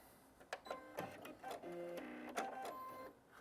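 Sewing machine stitching fabric, running a few short back stitches before going forward; quiet, rapid mechanical clatter in brief bursts with a steady hum between them, no talking.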